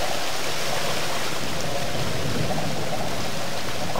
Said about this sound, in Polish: Ło, jak hałasuje! Całkiem głośny ten wodospad.